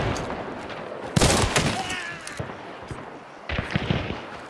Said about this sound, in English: It's a chaos bomb.